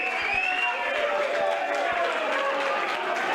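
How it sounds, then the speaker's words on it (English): A crowd applauds darts player George Tierney at the Taom Shootout 2019 semi-final: dense, steady clapping that holds at even loudness for the whole stretch, with a general crowd murmur beneath it. "Give me a big round of applause for Tierney."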